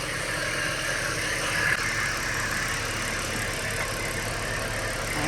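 Ford BF XR6 with a swapped-in 2.5 Barra engine running steadily, a continuous even engine drone with a faint squeal, close by and without talk.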